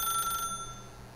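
A telephone rings in The Stanley Parable, a single bright electronic trill lasting under a second that then fades out, close and fairly loud with no speech.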